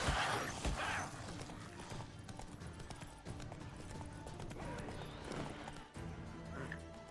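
Horse hooves clip-clopping at a trot in The Witcher 3, steady rhythmic footfalls with a brief whinny, continuing under game ambience while someone talks.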